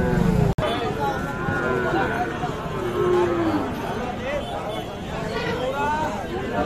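Cattle, including fattened Sahiwal bull calves, moo at the Ambari livestock market, a few low calls rising over steady crowd chatter and bargaining voices nearby.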